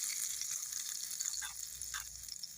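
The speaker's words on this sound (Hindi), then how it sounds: "तो ये देखिए इस लहसुनी पालक में हम तड़का लगा लेंगे।" Hot tadka tempering sizzles as it is poured into garlic spinach (lahsuni palak), giving a soft, steady frying hiss with a couple of brief crackling flares, quiet and close.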